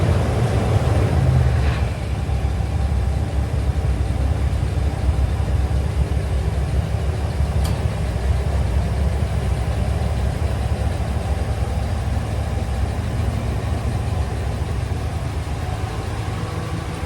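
A 2012 Dodge RAM 1500 engine runs steadily after new fuel injectors are installed, a loud, close, continuous idle rumble with no talking.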